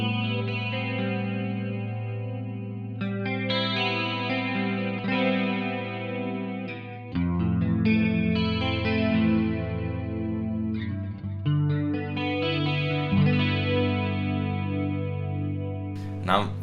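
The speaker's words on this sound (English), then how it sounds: "I'm plugged into my Kemper Profiler with my PRS CE24. I'm gonna start off with a single coil sound." Clean single-coil electric guitar tone from a PRS CE24 played through a Kemper Profiler, sustained chords and melodic notes ringing with chorus-like shimmer, close and steady, with a fuller change partway through.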